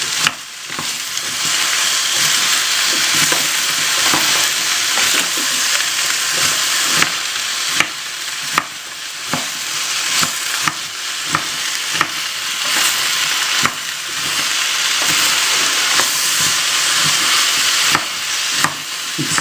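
Leek frying in a pan for papet vaudois, a loud close sizzle and hiss with repeated sharp scraping clicks of stirring scattered throughout, no voices.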